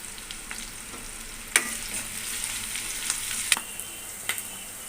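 Onion, green chilli and curry leaves frying in a pan, with a steady low sizzle punctuated by several sharp crackles and spatters, close and fairly quiet, with no talking.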